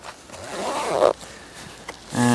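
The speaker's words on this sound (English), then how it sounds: "you'll notice down the bottom there is a zip here" A zipper on a pocket of an Able Carry Max backpack is drawn open in one close, rasping pull lasting about a second, followed by quieter handling and a brief later rustle.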